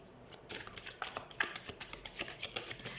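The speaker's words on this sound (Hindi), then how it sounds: "सबसे पहले हम कार्ड शफल कर लेते हैं वर्गो।" Tarot cards being shuffled by hand, a quick run of soft papery riffles and flicks repeating at close range, fairly quiet and steady with no talking over it.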